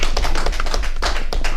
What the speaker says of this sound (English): Clap it up for them.